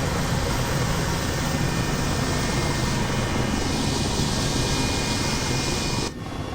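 A helicopter in Microsoft Flight Simulator 2020 gives a steady, dense, loud engine and rotor roar that holds constant, then drops off abruptly near the end.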